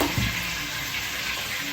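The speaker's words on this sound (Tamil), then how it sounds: "அரைச்ச வெங்காய பூண்டு ஆட் பண்ணி வச்சு" Ground onion and garlic paste for fish curry fries in a steel pan, giving a short, steady, close sizzle with faint hiss and no voices.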